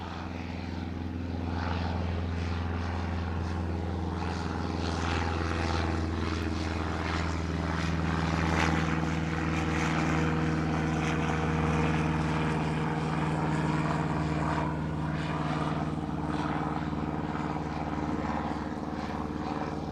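A small propeller plane, a Cessna 152, takes off from East Midlands Airport with a steady, droning engine hum that holds loud and close throughout, with no one talking.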